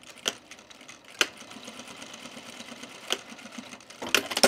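A sewing machine stitches webbing for a baby bag with a close, rapid mechanical whir-and-tap rhythm. Sharper clunks break in at intervals and a busier burst comes near the end.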